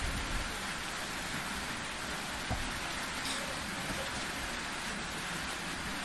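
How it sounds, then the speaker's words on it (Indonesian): Heavy rain falls steadily as a constant, dense hiss with no break, fairly faint and even throughout, with a single soft knock partway through. "hujan mulai agak deras juga"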